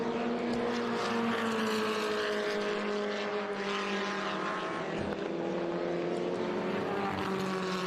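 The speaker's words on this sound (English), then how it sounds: "Most of these are Formula Fords," Formula Ford race cars lapping at WeatherTech Raceway Laguna Seca, a continuous, moderately distant engine whine with shifting pitch as cars pass, steady throughout without speech.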